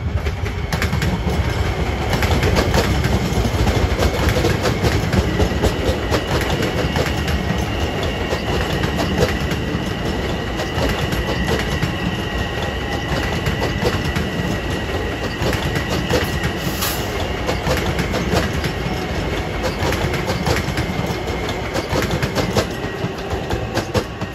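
An LIRR commuter train on the Hempstead to Atlantic Terminal run passes Elmont station in PM rush hour, with a long steady rumble and continuous clickety-clack of wheels over the rails.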